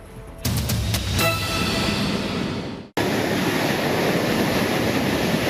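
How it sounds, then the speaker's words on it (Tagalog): Large waves pound the shore at Barangay Kansohong, Talisay City, Cebu, in bad weather, making a loud, continuous roaring wash with a few sharp clatters early on and a sudden break before the surf noise resumes. "Ganito kalaki at kalakas ang mga along humahampas sa baybayin ng Barangay Kansohong sa Talisay City, Cebu."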